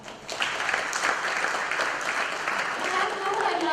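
Audience at an automotive innovation forum in India applauding, a steady full wash of many hands clapping throughout, close and sustained with no break.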